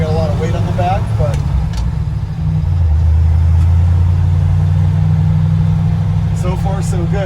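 A truck engine with a freshly swapped axle accelerates in first gear, a low steady drone rising in pitch, heard from inside the cab with someone speaking briefly at the start and end.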